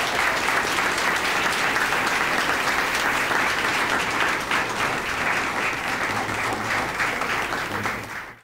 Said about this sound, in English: let's give her a loud round of applause